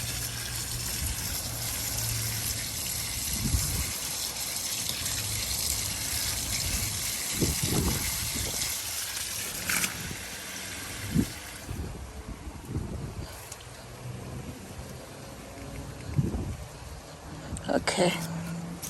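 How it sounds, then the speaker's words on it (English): Running water gushes as it washes aphids off the roots of small kohlrabis in a South Florida garden, a continuous outdoor splash mixed with wind noise and a voice talking. "So let's wash off the root system over there."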